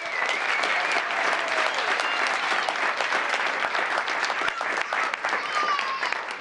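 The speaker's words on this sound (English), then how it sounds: "Another big round of applause, group 3," A crowd at a town council meeting gives a sustained round of applause for group 3, many hands clapping in a dense, uneven patter at moderate level from start to finish.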